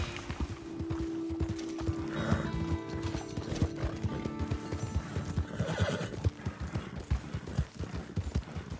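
A horse in the Red Dead Online video game trots with rapid, continuous hoof clip-clops and gives two clear whinnies, alongside faint mechanical clicks.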